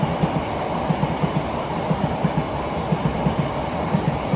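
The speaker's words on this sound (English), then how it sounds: "There's a fast Metropolitan line train passing here on its way to Amersham." A semi-fast London Underground Metropolitan line train runs through a station without stopping, its wheels beating a rapid, regular clickety-clack over the rail joints under a loud, continuous rumble.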